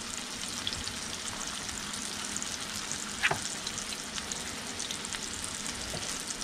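Small pieces of mangrove snapper fry in a hot pan with a constant, even sizzle, close and steady, with one brief louder crackle partway through.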